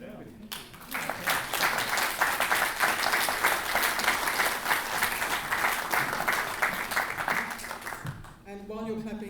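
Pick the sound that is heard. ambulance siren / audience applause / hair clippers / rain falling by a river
audience applause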